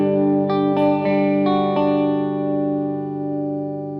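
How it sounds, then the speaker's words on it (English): An electric guitar runs through a plate reverb on a Line 6 POD Express, several picked notes over a sustained chord ringing out and decaying in a smooth wash of reverb, alone and fairly close. "I'm going to load up the plate reverb and its basic settings are as follows."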